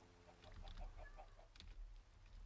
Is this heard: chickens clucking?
yes